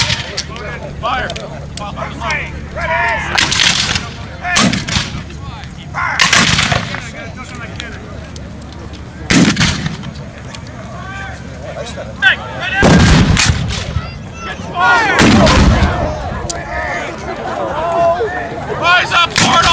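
At a Civil War living history weekend at Fort Adams in Newport, Rhode Island, reenactors fire muskets and artillery in a series of loud, sharp blasts spaced irregularly, while commands are shouted between shots.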